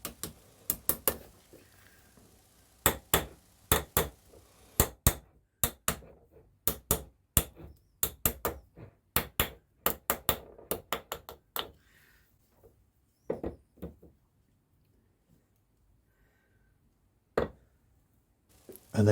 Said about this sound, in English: just a case of gently tapping it on, springing it back on over the lip